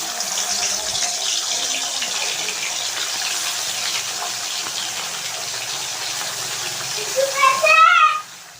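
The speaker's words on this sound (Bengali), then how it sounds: "তো দেখো মাছটা একটু কেটে ধুয়ে নিলাম।" Cut fish washed under running tap water in a kitchen sink, a steady gushing flow with a brief splashy rise near the end.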